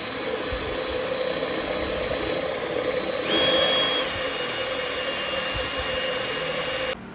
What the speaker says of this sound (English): We center punched it, so now we gotta drill it out so we can slot it so that the brake rotor will fit perfect.